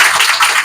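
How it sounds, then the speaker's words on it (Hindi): Students in a classroom applauding a classmate's congratulations: a short burst of brisk, dense hand claps, close and fairly loud, with no talking. "ताली बजाओगे कि नहीं बजाओगे?"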